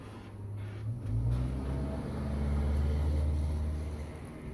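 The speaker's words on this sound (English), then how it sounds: "I think there was a mail truck driving through the neighborhood." A mail truck rolls through a quiet residential street on a Sunday, its engine a low, steady rumble that swells and fades at moderate distance.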